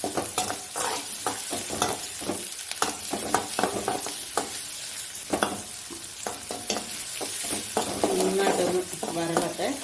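Chopped onions sizzle and fry in hot oil in a pan, with steady crackling broken up by repeated scraping stirs, close and fairly loud throughout.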